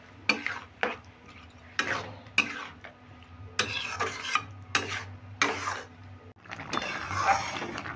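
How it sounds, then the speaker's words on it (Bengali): Amla (Indian gooseberry) pickle being stirred in a pan, a spoon scraping and knocking against the metal in repeated strokes over a steady background sizzle, close and moderately loud with no talking. "এবার 8 থেকে 10 মিনিট মতো এইভাবে নেড়ে চেড়ে আমি আচারটাকে বানিয়ে নেব।"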